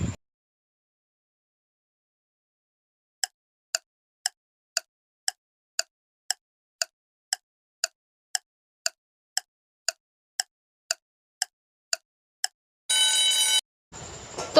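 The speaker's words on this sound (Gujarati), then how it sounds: "આનો જવાબ છે મોબાઈલ" A mobile phone rings with a regular series of short, bright electronic chirps repeating about twice per second for roughly nine seconds, alone in silence, followed by a brief burst of louder jingling.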